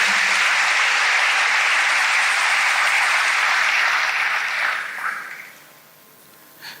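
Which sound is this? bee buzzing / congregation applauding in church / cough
congregation applauding in church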